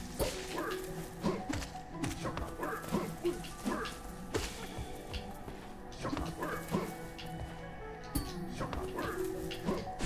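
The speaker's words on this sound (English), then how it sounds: "I do hear a grub nearby." Small creatures crying nearby in the video game Hollow Knight, heard as repeated high whimpering, yip-like calls in a steady rhythm over layered game ambience and music.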